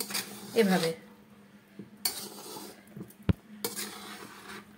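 Vegetable biryani being mixed in a cooking pot, with several scraping and clinking strokes of a utensil against the metal and a sharp knock near the end, separated by quiet gaps.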